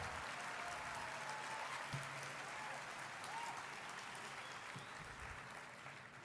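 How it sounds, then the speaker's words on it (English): A convention panel audience at Emerald City Comicon applauds Jason, a steady wash of clapping from a large room that holds at an even level throughout, with no voices over it. "Folks, a round of applause for Jason."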